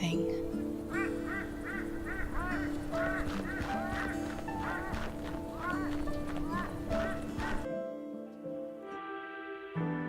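Flock of birds honking repeatedly in the video game Shardlight, a busy chorus of goose-like calls over a steady background hum before cutting off abruptly near the end.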